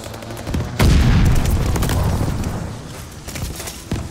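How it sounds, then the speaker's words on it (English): Mortar shell explosions in Call of Duty: Vanguard burst in close and loud, a heavy boom followed by rumbling debris and scattered crackling impacts, with a few sharper reports toward the end. "It's sending mortar shells!"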